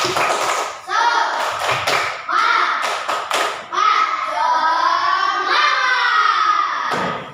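Schoolchildren performing the 'tepuk semangat' clapping chant in a classroom, sharp bursts of claps in rhythmic groups alternating with loud shouted chanting voices, close and lively.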